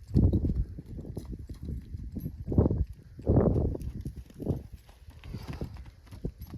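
A horse's hooves clop in a heavy, uneven rhythm close by during training, several strikes in quick clusters, with no talking over them.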